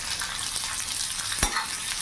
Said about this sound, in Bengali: আলুগুলো দিয়ে একটু ভাজা ভাজা করে নেব।